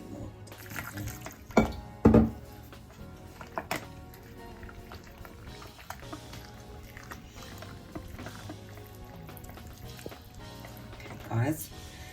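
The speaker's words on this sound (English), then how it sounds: "we're just going to add some water as we go and mix" Water is poured into batter for a UK Christmas roast dinner and stirred in, a few wet splashes and squishy mixing sounds near the start, then quieter liquid stirring under a low background hum.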